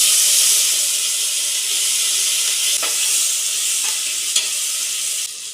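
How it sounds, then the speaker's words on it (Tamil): Whole spices, green chili, mint and coriander hit hot oil and butter for chicken biryani, producing a loud, close, hissing sizzle that eases slightly, with a few sharp stirring clicks near the end. "எண்ணெயும் பட்டர் வந்து நல்லா சூடாயிட்டு இப்போ வந்து பட்டை வகையெல்லாம் சேர்த்துக்கலாம் பச்சை மிளகாய் புதினா கொத்தமல்லி வந்து சேர்த்துக்கலாம்"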